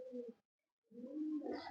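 Two soft, low pigeon coos, close by, separated by a brief silence.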